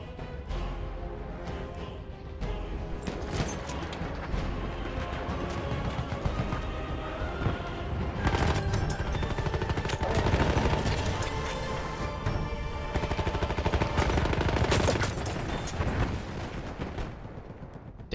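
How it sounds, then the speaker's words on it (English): Sustained submachine-gun fire in a video game, dense rapid bursts layered with explosions and crashes, loud and continuous with no talk. "This SMG is kind of crazy. It has so many bullets."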